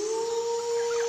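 A dog howling in one long, steady, sustained tone, clear and fairly loud, with no talking.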